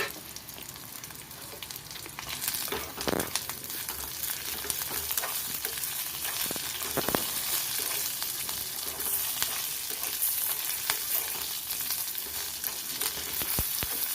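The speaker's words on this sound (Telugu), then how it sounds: "కరివేపాకు, ఎండుమిర్చి, ధనియాలు బాగా వేగిపోయింది కదా." Dried red chillies and coriander seeds fry in hot oil with curry leaves and green chillies, giving a steady close sizzle throughout with a few sharper crackles and stirring scrapes. No one speaks.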